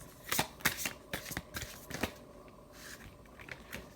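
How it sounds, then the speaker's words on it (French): Tarot cards being shuffled and drawn, heard as a quick run of close, crisp riffles and flicks that turns into a few scattered softer taps as cards are pulled out, quiet and near, with no voice. "je continue, je vais sortir 3 cartes"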